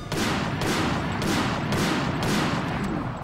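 Rapid, dense gunfire pours at an enemy in the video game Global Defence Force, a loud continuous barrage of shots with a few sharper bursts standing out.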